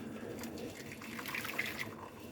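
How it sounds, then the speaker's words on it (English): Boiling water poured into a bowl of sugar-free gelatin mix, a soft close trickle and splash running briefly and faintly throughout with no talk. "Then we want a 1/2 cup of boiling water."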